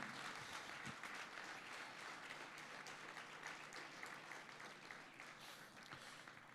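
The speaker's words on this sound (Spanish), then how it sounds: "Fuerte ese aplauso de alabanza al Señor." A church congregation claps in praise at a service, a faint, steady wash of many hands with no voices over it.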